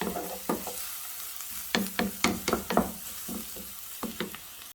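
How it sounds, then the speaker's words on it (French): Onions sauté in a little oil in a frying pan: a soft bed of sizzle is broken by a series of sharp scraping stirs from a utensil, close and fairly quiet. "on fait revenir comme ça 2-3 minutes les oignons"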